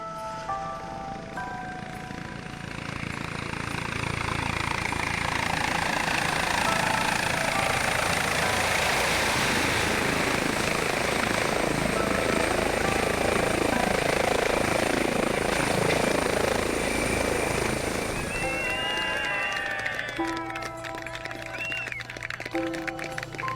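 An air ambulance helicopter passes overhead, its rotor thump swelling to a loud, sustained roar and then fading; a few bird chirps appear near the end.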